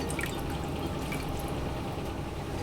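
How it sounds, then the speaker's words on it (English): Marinade pours steadily over chicken wings for sesame sticky wings, a continuous close liquid splashing and dribbling with no pauses. "then you're going to pour your rest of your marinade in there"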